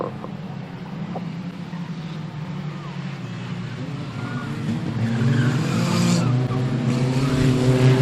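A race car spinning out at a team streets race at Standlake, engine noise rising with rough skidding and tire scrub, loudest toward the end, with a commentator's voice over it.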